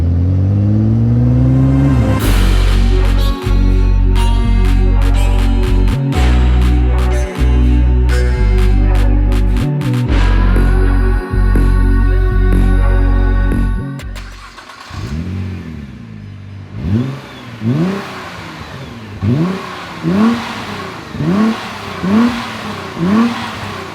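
A Nissan R35 GTR with its stock exhaust barks through hard, loud revs, cutting off abruptly between blips, then settles into a series of quicker, lighter rhythmic throttle pulses close by.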